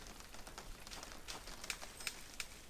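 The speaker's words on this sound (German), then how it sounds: "Das ist einmal der Regen, der prasselt." Rain patters steadily through an outdoor scene in the Tomb Raider video game, a soft continuous hiss with scattered sharper drops, faint and without voices.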